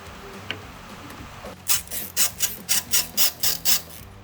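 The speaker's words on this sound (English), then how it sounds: "now we just put the screws back in, tighten everything back down" Screws are driven back in and tightened on a Jeep Wrangler JK's Raxiom LED tail light, a run of about eight regular, rasping ratchet-like strokes near the mic after a quiet start, with no talking.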